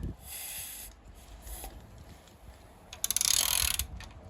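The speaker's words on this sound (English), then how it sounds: "Turn the crank over 1 turn." A Triumph engine's crankshaft is turned over by hand, giving soft mechanical ratcheting, clicking and rubbing close by, ending in a brief louder burst of metallic friction.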